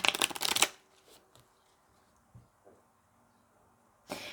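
Tarot cards are riffled in a loud, dense burst, followed by a few faint taps and slides as single cards are drawn and laid down, then another short shuffle at the end.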